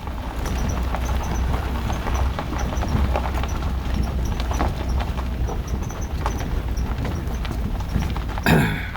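Steady clip-clop of horse hooves continues throughout with a constant outdoor rumble, ending in a brief louder scrape or rustle.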